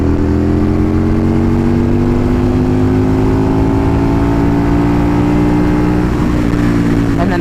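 A V-twin Aprilia Tuono motorcycle accelerates steadily in sixth gear, its loud engine drone rising gradually in pitch throughout, with no voices over it.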